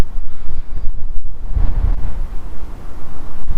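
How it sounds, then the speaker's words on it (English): Strong gusty wind buffets the microphone at the port of Southampton, loud rumbling surges with a heavier gust in the middle and brief dropouts, no talking. "It's definitely a bit windy out there still."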